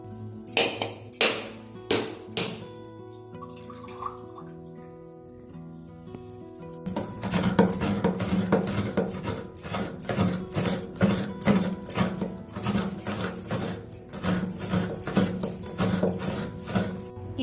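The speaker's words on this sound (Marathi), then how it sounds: "आता नारळ फोडून घेते आणि किसून घेऊया।" A coconut is cracked and then grated for Konkan-style solkadhi: a few sharp knocks at first, then a long run of rapid, rhythmic scraping strokes, close and clear with no talking.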